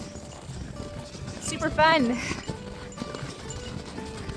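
Three excited horses are led home on a small winter farm, their hooves clip-clopping steadily nearby while a person talks, with a brief rising-and-falling high call in the middle.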